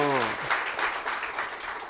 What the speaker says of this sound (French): On peut applaudir pour ça, non?